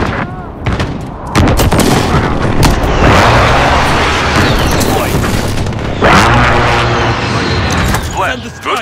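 Air-strike bombing explosions in Call of Duty: Modern Warfare, a loud barrage of booming blasts and rapid gunfire that layers into a sustained roaring rumble, with a second big impact midway and radio-style voices talking over it.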